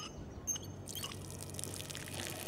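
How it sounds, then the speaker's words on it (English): Water leaking in the Hitman video game: a soft, steady trickle and spatter that starts abruptly and continues faintly over a quiet ambient hum. "we create a little water leakage here"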